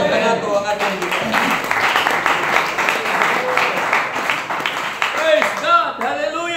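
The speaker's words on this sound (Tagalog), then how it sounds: "Palakpak kanato ang atong Dios." A church congregation at a prayer and fasting gathering claps together in a loud, steady burst of applause, with a preacher's voice rising over the clapping near the end.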